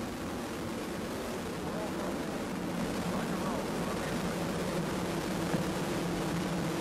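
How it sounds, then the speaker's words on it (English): Space shuttle Columbia lifting off on a test-flight mission, a continuous broad roar of rocket engines heard from a distance, dense and rumbling without letup, with a voice faintly present under it. "Liftoff of America's space shuttle on its first mission"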